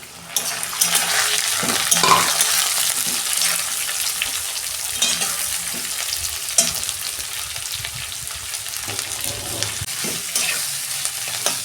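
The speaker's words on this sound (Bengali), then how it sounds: "পেঁয়াজটা আমি আর একটু লাল লাল করে ভাজবো" Steady loud sizzling of onions frying in a pan after garlic and tempering spices, browning for a Bihari-style chicken dish, with repeated scraping and clatter of a spoon stirring throughout.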